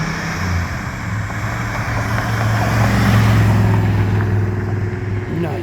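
An old Chevrolet Corvette drives out of a car show, its engine rumbling low and steady, rising slightly as it pulls past nearby, loud over outdoor background.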